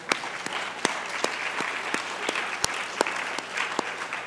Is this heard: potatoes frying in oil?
no